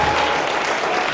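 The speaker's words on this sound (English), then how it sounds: "Let's give everyone who gave a speech another round of applause" Audience at a commencement ceremony gives a round of applause for the speakers, a short, loud, dense wash of clapping.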